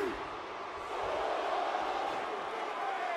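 A large pro wrestling arena crowd boos in a loud, sustained, steady roar, with scattered voices in the mass and a brief bump at the very end.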